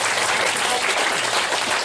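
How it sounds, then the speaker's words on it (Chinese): An audience at a children's science activity session claps to welcome the lecturer, a dense, loud, continuous burst of applause filling the whole short stretch. "那就请大家以最热烈的掌声欢迎我们今天讲师谢老"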